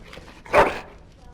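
A single sharp dog bark in the Dragon Age: Origins video game, heard once near the middle over quiet background sound.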